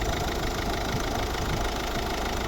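A 2010 Volvo V50 1.6 diesel engine idles with a steady, knocking rumble, close and constant, with no other sounds.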